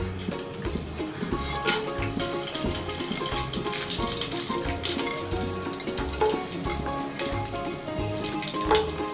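Masala sizzles steadily in hot oil for a chicken biryani, a dense, continuous crackle with rhythmic stirring scrapes running throughout at close range, loud and with no talking.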